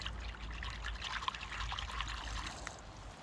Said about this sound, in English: rinse it like that, and that's it clean.